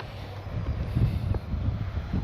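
Gusty wind buffets the microphone at an RC plane field, a low rumbling roar that rises and falls over a couple of seconds with no other clear sound.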